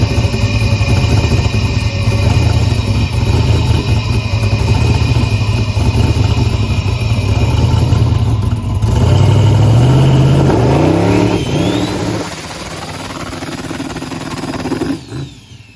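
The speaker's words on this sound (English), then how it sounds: "I'll get you the turbo spool shot this time." A drag racing car at World Cup Finals holds a loud, choppy two-step rev near the start line, then the engine note climbs and surges as the turbo spools up before fading away.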